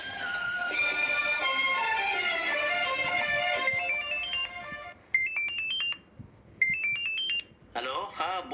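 A telephone in a Marathi family radio drama rings with repeated electronic ringtone bursts that go unanswered, following a stretch of music and voices at the start.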